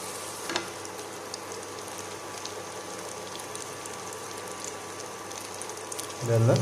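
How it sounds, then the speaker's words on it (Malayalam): Onion, green chili and capsicum sauté in a pan for spicy pepper egg noodles, giving a steady low sizzle with faint stirring and a louder burst of frying near the end. "സവാള, പച്ചമുളക്, ക്യാപ്സിക്കം ഒക്കെ അതിനകത്തിട്ടൊന്ന് വഴറ്റിയെടുക്കാം."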